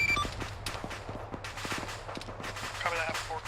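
Gunfire in the military game Arma 3: repeated sharp shots and short bursts at an uneven rhythm, some near and loud, some more distant, over a steady background rumble with radio-style chatter.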